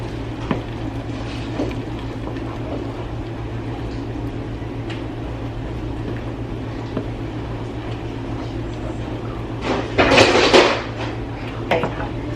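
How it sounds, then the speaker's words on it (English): Christmas candy mixture of peanut butter and vanilla being stirred in a pot, with steady scraping and clinking of a utensil against the pan, a few louder clatters near the end, under a constant low hum. "And this is all going to get stirred in together."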